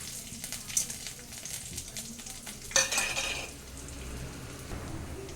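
Mustard seeds, urad dal, garlic and a dried chili frying in hot oil for tomato rice, a steady close sizzle and crackle with a spoon scraping and stirring the pan.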